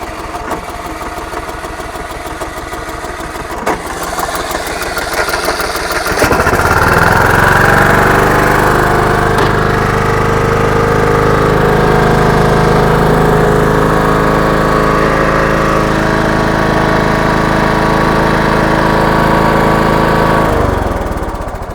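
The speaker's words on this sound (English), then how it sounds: "Took a little, actually Had to crank a little bit to get that started. The motor was kind of hard to start" Car engine with a hard-to-start motor, cranked using a portable emergency jump starter with air pump: a few seconds of starter cranking, then the engine catches and settles into a loud, steady idle close by.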